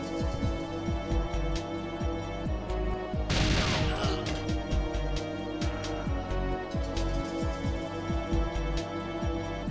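Gunfire in the GoldenEye video game in ECW mode: rapid, repeated shots crackle steadily throughout, with a denser, louder burst of fire a third of the way in.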